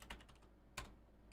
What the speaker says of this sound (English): I only type with these 2 fingers